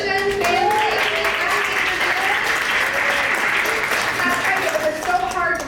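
An awards ceremony audience applauds and cheers, steady dense clapping mixed with voices calling out and crowd chatter over several seconds.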